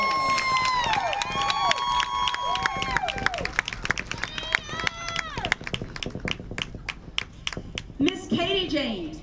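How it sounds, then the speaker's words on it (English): A high school homecoming crowd at a varsity football game cheers and claps for the homecoming court. Rising and falling tonal horn-like blasts ring over scattered applause and crowd noise, with sharp bursts near the end. "Let's give all these young ladies a round of applause."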